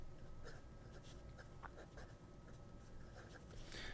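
A Majon P139 fountain pen with a size 8 nib scratches softly across paper in short strokes and taps, faint and close over a steady background hiss.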